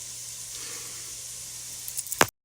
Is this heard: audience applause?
no